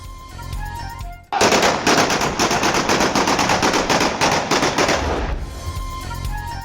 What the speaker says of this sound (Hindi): अहलकारों की कामयाब ऑपरेशन पर हवाई फायरिंग